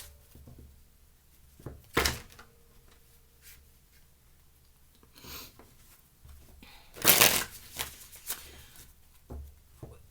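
Quiet crisp riffling and shuffling of a deck of tarot cards, in a few short bursts separated by pauses, close by, with soft handling taps between.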